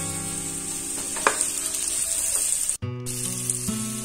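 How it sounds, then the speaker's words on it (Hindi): Capsicum fries with onions and ground coriander in a pan, a continuous close hiss of sizzling oil with a few stirring knocks and a brief cut in the sound partway through. "अब इसमें ये शिमला मिर्च डाल देते हैं।"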